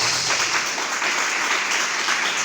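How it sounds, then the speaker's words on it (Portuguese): Church congregation applauding at a worship service, a steady dense wash of clapping sustained throughout at moderate loudness with no voices over it. "Vamos aplaudir Jesus, que Ele merece?"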